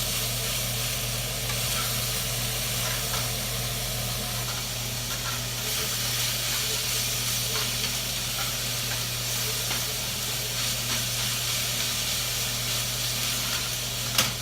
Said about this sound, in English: Now as the meat gets hot, it's going to start to simmer and some of the grease is going to come off of it.